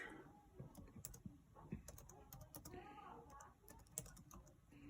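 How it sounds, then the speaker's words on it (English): A computer keyboard clicks in a quick, irregular patter of soft keystrokes, close and faint, with brief pauses between bursts of typing. "So what's this program that you're typing it into right now?"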